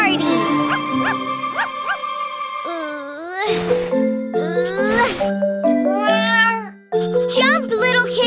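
Cartoon kittens meow in high, sliding cries over bright chiming music and bell tinkles, several meows following one another in quick succession.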